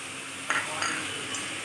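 Jackfruit seeds being stirred and fried in a pan, a steady close sizzle with a couple of soft spoon clinks against the metal.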